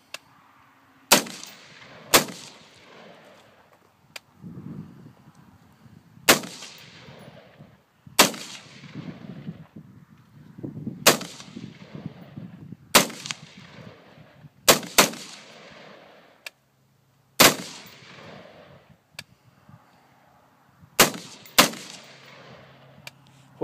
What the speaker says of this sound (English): Where are you shooting at, Clint?